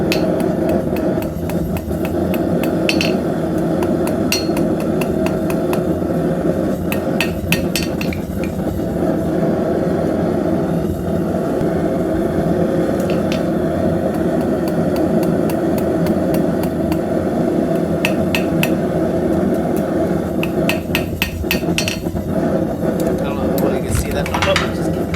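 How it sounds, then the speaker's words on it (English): Rapid bursts of small metallic hammer taps ring out repeatedly while forging a metal Celtic hair pin, over a constant low rumble, clustering in quick strikes with short pauses between. "Tiny hammer."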